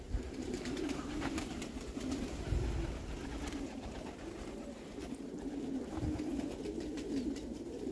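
A Eurasian collared dove coos in a garden allotment, the soft low calls repeating faintly against a steady outdoor background.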